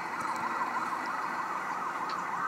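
Police patrol car sirens wail continuously at a distance, a steady rising and falling tone holding at moderate volume throughout with no talk.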